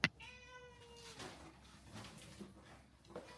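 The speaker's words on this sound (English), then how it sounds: "My cat was already waiting for me at the door." Pet cat meowing indoors near the front door, one drawn-out, fairly faint meow, followed by soft household rustling.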